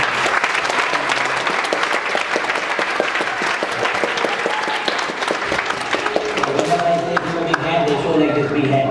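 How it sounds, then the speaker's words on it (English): A summer camp audience gives a big round of applause, dense continuous clapping filling the room for several seconds, with voices and chatter rising near the end. "So give a big applause."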